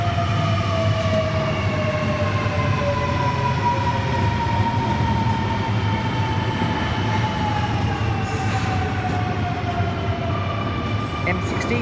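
A Sydney City Circle train pulls into the platform at Wolli Creek station with a loud, continuous rumble and rising and falling electric motor whine, steady and close, with faint announcement-like voice under it.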